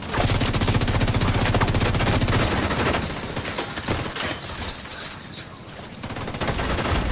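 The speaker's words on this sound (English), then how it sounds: "Oh, who is shooting me?" Rapid, loud automatic gunfire from a shooting video game (an AR build) fills the opening seconds, then thins into scattered bursts and returns toward the end, with a voice faintly beneath.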